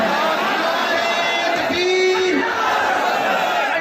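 A large crowd at a religious speech roars and chants slogans together, a dense continuous wall of voices with a rising shout in the middle.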